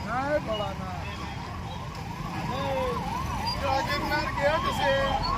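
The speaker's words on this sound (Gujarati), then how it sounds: "પોલીસની ગાડીઓ પણ બહુ રખડે છે અત્યારે." A police car siren wails through heavy festival traffic during Mahashivratri in Junagadh, its rising and falling tones repeating steadily over the hum of vehicles and crowd noise, moderately close, with voices in the background.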